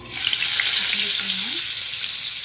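Dried fish frying in hot oil in a pan for a dry fish and egg curry, a loud, dense, continuous sizzle heard up close with no talking.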